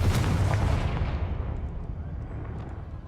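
Booming spell blasts from the Hogwarts Legacy video game: a loud, heavy explosive burst at the start that rolls and decays into a lingering low rumble with a few faint crackles, no voices.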